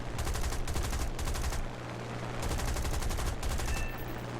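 Machine guns of a Hurricane Mk IIB fighter in the War Thunder combat flight game fire in long, loud rattling bursts with short gaps, over a steady droning engine hum.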